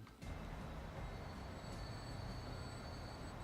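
Rail traffic in the Transport Fever simulation game, a train rolling steadily with a continuous low rumble and faint high tonal whine, constant and close with no speech.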